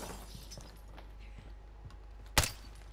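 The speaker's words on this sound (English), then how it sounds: "I love shooting glass though" A single sharp burst of shattering glass from a gunshot in Call of Duty cuts through quiet game ambience, loud and brief with a short scattering tail.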